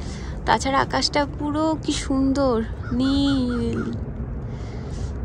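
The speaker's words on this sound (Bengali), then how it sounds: "কয়দিন ধরে কাক ডাকছে" Crows cawing repeatedly at home on a cold, clear day, a string of harsh, fairly loud calls mixed with someone talking.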